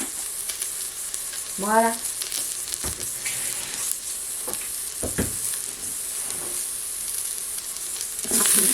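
Onions sizzling in a frying pan and being stirred, a constant close frying hiss broken by a few scraping strokes and light clatter; one short spoken word.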